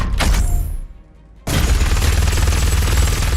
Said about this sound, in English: that's definitely layered into the high kind of frequency lasery kind of sound